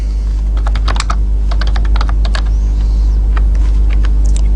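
Typing code on a computer keyboard, loud and close, in quick bursts of clicking keys separated by short pauses, over a steady low hum and faint rumble.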